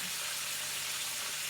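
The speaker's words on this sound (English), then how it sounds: "So let it fry till it gets crispy." Chicken fillet pieces frying in oil, a continuous soft hiss and sizzle, steady and fairly faint, with no talk.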